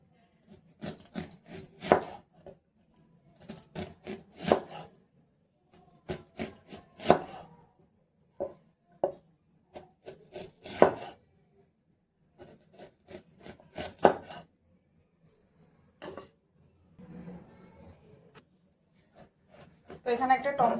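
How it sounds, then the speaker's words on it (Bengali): An onion being sliced into rings with a knife on a cutting board: close clusters of quick rasping cuts separated by short pauses, growing sparser and quieter toward the end. "পেঁয়াজটা এভাবে একটু গোল গোল করে স্লাইস করে কেটে নেব"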